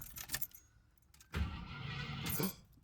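Keys jangle briefly, then the engine of a 1987 Jeep Grand Wagoneer cranks and catches, running with a steady rumble close by.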